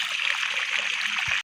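Water gushes from a newly fitted pipe into a tractor's tanker, a steady, loud rushing stream that runs unbroken and then cuts off abruptly at the end.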